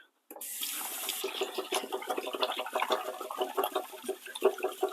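Turmeric root rinsed under a running kitchen tap, water splashing and gurgling steadily close by with uneven spattering as the pieces are turned in the stream, starting abruptly after a moment of silence.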